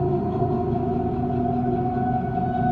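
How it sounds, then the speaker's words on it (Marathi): A train running on a railway track gives a steady, continuous low rumble with a faint rhythmic clatter, unchanging in loudness throughout. "माधवराव केबिनमध्ये जाऊन ट्रेन स्टार्ट करतात"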